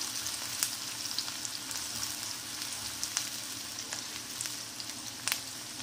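Chopped onion fries in a pan for a cucumber sabzi, a soft, fairly quiet crackling sizzle punctuated by occasional light stirring taps, with no speech.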